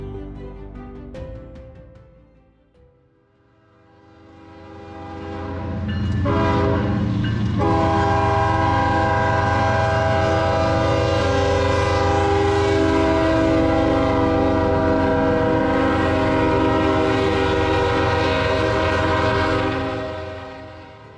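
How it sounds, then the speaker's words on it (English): A train slows through a station, its loud sustained horn blaring over rumbling wheels and rail noise for most of the stretch, after a quieter start. "this is apparently a place where the train slows down"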